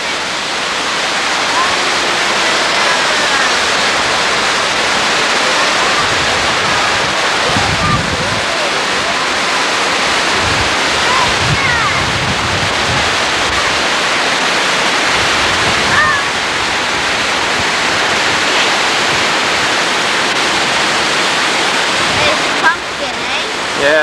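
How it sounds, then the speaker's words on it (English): Rushing rapids on the Sydenham River in Owen Sound, a steady loud roar of churning whitewater that fills the whole stretch without a break, with a few low thuds and bumps near the microphone. "no fish has ever been known to make it up this set of rapids."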